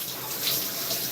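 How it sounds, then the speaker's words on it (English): A running shower at home, water spraying in a steady, even hiss with no voices, close and fairly quiet over a brief moment. "the shower I'm taking right now, it's helping out tremendously."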